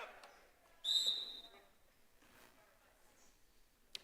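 During a college women's basketball game, a referee blows one sharp, short whistle for a travel, fairly close, over faint crowd and court noise with a commentator's voice underneath.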